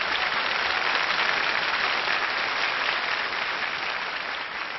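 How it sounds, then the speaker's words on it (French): A television studio audience on the 1998 French variety show Sous Vos Applaudissements bursts into sustained, dense applause, a steady wash of many hands clapping at even loudness, slowly easing toward the end, with no speech over it. "Ça mérite vos applaudissements."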